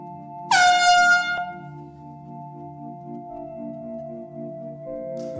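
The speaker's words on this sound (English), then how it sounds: "I'd ask for unanimous consent to sound an air horn in committee" An air horn sounded inside a committee hearing room blasts once, loud and brassy for about a second, then cuts off, leaving a steady low electrical hum.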